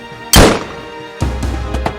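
A Nerf gun fires with a sharp, loud thunk, followed a moment later by a softer run of knocks and clatter.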